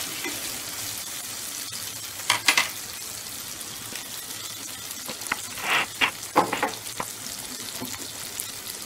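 Onions with ginger garlic paste and green chilli fry in a pan over lowered heat, a faint steady sizzle punctuated by several clustered clattering stirs and scrapes.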